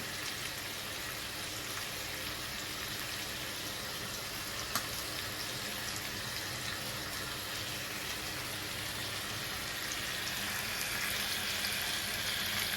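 Green chicken pieces frying in oil in hotel style, a steady loud sizzle that holds constant for the whole stretch, with no talking.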